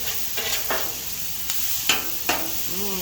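Vegetables and seasoning stirred on a hot Blackstone griddle for fajitas, with a steady sizzle and several sharp scraping strokes of a spatula, close and fairly loud, no talk.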